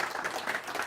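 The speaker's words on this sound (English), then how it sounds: "Let's give him a round of applause." Audience applause welcoming a speaker on stage at a corporate programme opening, a steady, dense wash of clapping from a crowd, moderately loud and sustained without pauses.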